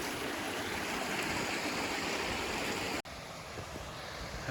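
Steady rushing of a stream flowing beneath a bridge on Glacier National Park's Otokomi Lake Trail, loud and close, with a brief dropout near the end before the flow resumes.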